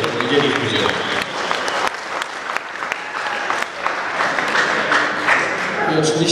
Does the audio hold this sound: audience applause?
yes